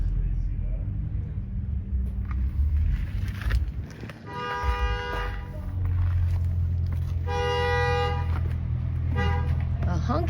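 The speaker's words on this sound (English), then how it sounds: "Honking is from the tunnel, which is below us." Car horns honk in a road tunnel below, two sustained tooting bursts echoing over a low traffic rumble, somewhat distant, with a voice speaking briefly amid the noise.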